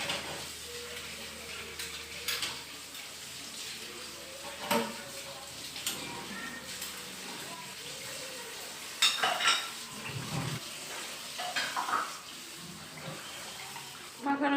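Pangas fish being hand-mixed for pakoras, giving soft wet squelching and stirring noises in irregular bursts, close and fairly quiet.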